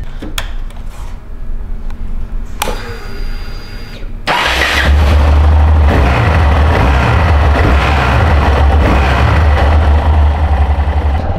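A motorcycle engine is kicked over and catches after a few clicks and clatters, then settles into a loud, steady, close idle with slight revving, the motorcycle being a 50 cc bike used for wheelies.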